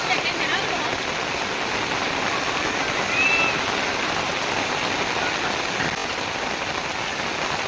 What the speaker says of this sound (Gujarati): વરસાદ ફૂલ ચાલુ છે ને તમને બહારેથી બતાવી દઈ નજારો